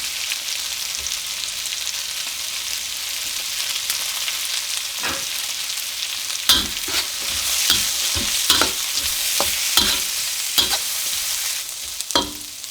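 Carrot being stir-fried for yakisoba on a flat pan, a steady sizzle with intermittent scraping and tossing clicks from the utensil, close and without talk.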